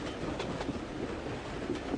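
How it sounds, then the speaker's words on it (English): A train travels along the rails toward Dover with a steady, full rumble and a faint rhythmic clatter of wheels, continuous and close throughout. "The train was getting nearer and nearer to Dover."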